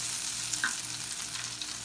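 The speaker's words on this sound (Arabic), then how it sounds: "حطينا شوية زيت وحطينا كده زبدة كبيرة، حوالي 2 معلقة زبدة" Butter melting in oil in a pan gives a steady, close, even sizzle with a faint stirring scrape.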